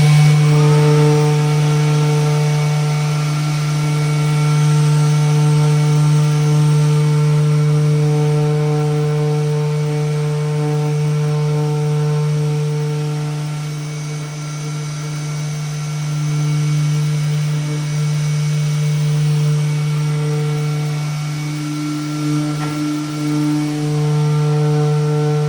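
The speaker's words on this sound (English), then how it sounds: "Now I've got an 80 grit pad on the profiling sponge on the Mirka." A Mirka sander fitted with an 80 grit pad on a profiling sponge grinds away old paint with a steady loud motor whine and droning hum, rising and dipping slightly as pressure changes, close and continuous without speech.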